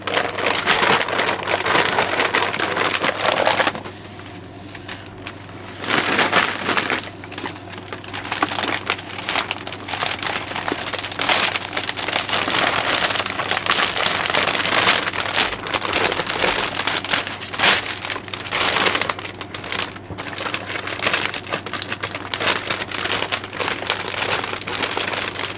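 Charcoal is poured into a bag alongside a shot glass box, a continuous crinkling, rustling pour with a brief quieter pause, close and loud throughout, with no voices.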